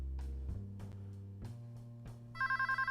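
A telephone rings in the video game DOSVIDANIYA, a bright electronic trill pulsing in quick bursts near the end, heard over low droning background tones with no talking.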